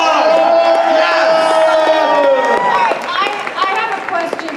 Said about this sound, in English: Give him a loud applause